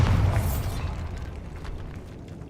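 A Bombarda spell blast inside a decayed catacomb in Hogwarts Legacy erupts as a loud, deep booming explosion at the start, then fades into a long rumbling decay with faint debris rattling, with no voices.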